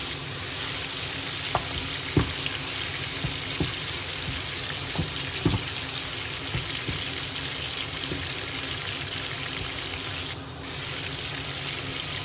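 Ground pork frying in a pan for a cauliflower guisado, a steady close sizzle and crackle with occasional scrape and click of stirring, no voices.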